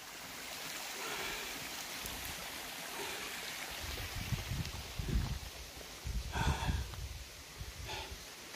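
Mountain stream water flowing from a spring source on a windy, rainy mountain, a continuous close burble and trickle that grows louder and more splashy in the second half.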